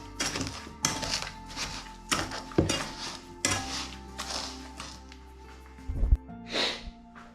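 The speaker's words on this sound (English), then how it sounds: "I'm just going to mash up those berries with the sugar." A potato masher pushes wild berries and sugar down in a pot in a series of repeated thick, squelching strokes and knocks, with a few clinks against the pot.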